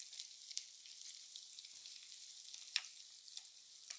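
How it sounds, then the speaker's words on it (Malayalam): Chopped onion and curry leaves fry in hot oil, giving a steady, quiet sizzle with small crackles and pops scattered throughout, no voices present. "എണ്ണ ചൂടായി ഇട്ട് കൊടുക്കാം ഒരു സവോള അരിഞ്ഞതാണ് അത് നമുക്കൊന്ന് ഇട്ട് കൊടുക്കാം കുറച്ച് കറിവേപ്പിലയും"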